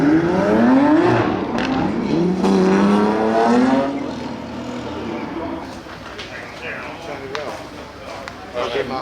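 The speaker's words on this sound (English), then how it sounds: "this is the Lanzante road converted version of the McLaren Senna GTR" Lanzante road-converted McLaren Senna GTR supercar engine, loud and close, rising in pitch through revs before settling to a steadier drone, with voices talking over it.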